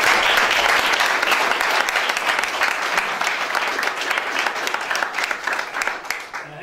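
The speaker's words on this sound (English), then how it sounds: "So I'd like us all to give them a round of applause." Round of applause from the audience at a boxing promotion press conference announcing a fighter's signing, steady clapping from a modest crowd that gradually tapers off.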